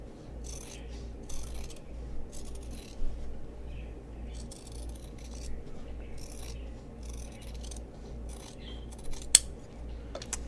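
Scissors trim the seam allowance of a fabric mini stocking, giving soft, close snips and rubbing cuts in an irregular series of short bursts over a quiet low hum, with one sharper snip near the end.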